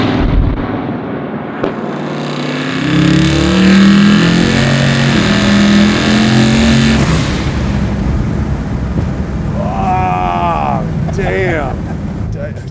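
A 1,600 hp twin-turbo Chevelle restomod accelerates hard. Its engine note rises and swells into a loud, sustained roar, then settles into a steady drone while people talk excitedly over it.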